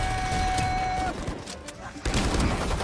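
Valorant team deathmatch gunfire crackles in rapid bursts, with a sustained volley that breaks off briefly before another burst of shots, loud and close.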